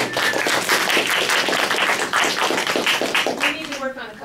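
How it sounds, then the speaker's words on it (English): Audience applause right after a vocal performance at a singing lesson or masterclass, dense steady clapping filling the room for about three and a half seconds before fading, with a voice rising at the end. "Big applause."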